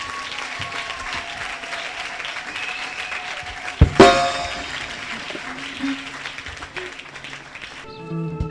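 A church congregation applauding loudly during a prayer service, a dense sustained wash of many hands clapping, with a sharp clang partway through and faint voices or music underneath.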